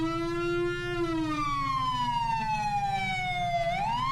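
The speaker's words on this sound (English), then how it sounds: "I'll now be showing off the SASP Sirens and Horn." A San Andreas State Police siren in the FiveM game wails loud and steady, one long tone sweeping slowly downward and then jumping back up near the end, over a low engine hum.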